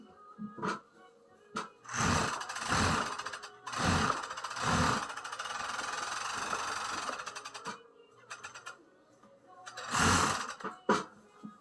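A sewing machine runs a long curved seam on a bloomers garment, stitching in several bursts with short pauses between, close and moderately loud, with brief sounds around the stitching runs.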